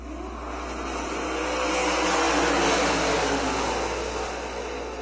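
Sprint cars roaring off at the start of a dirt-track heat race, a dense distant engine roar that swells and fades as the field passes.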